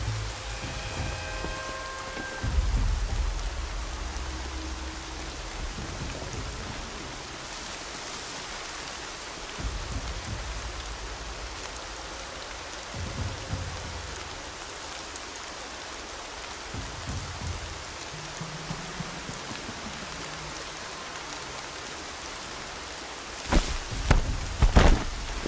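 Continuous rainfall in the video game Horizon Zero Dawn pattering steadily, with occasional low rumbles and a few sharp knocks toward the end.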